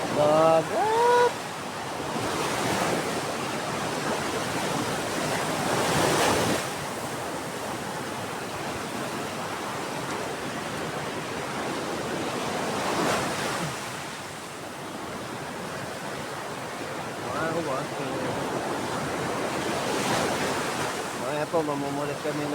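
Sea waves breaking on the shore at Bolinao, Pangasinan before sunrise, with broad surges rolling in around every several seconds over a constant wash, and brief voices now and then.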